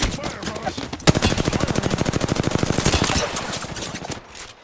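Rapid automatic gunfire in the video game Apex Legends rattles off in a long, fast, evenly spaced burst of sharp shots, loud and close, tapering off near the end.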